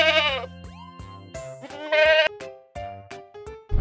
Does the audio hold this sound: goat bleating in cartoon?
yes